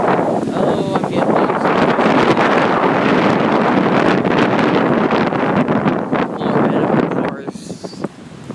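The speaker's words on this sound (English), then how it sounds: "Oh my gosh, it's windy." Strong wind roars across the microphone outdoors in continuous heavy gusts, buffeting loudly for most of the stretch before easing slightly near the end, with faint rustling mixed in and no voice.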